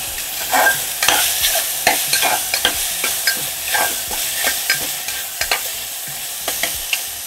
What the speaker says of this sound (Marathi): छान परतून घ्यायचा हा कांदा